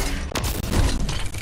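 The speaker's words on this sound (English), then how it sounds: "Somebody's shooting at you." Gunfire in the Fortnite video game crackles as a rapid, dense burst of shots, loud and close, with no talk over it.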